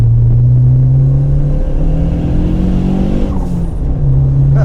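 A Fiat Uno Turbo or Punto GT engine pulling hard, a loud, close droning rumble that climbs steadily in pitch, dips briefly as if shifting, then rises again.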